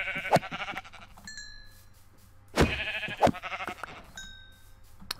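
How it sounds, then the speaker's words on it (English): Sheep in Minecraft bleat in short nasal calls, two or three of them spaced a second or so apart, moderately loud, mixed with faint chimes and game sounds. "it seems like there's plenty of you sheep around"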